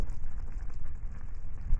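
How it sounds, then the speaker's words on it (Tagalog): Small fish paksiw simmering over a low flame in a pot, a soft steady bubbling and sizzling crackle that stays close and fairly quiet throughout. "Ayan na kumukulo."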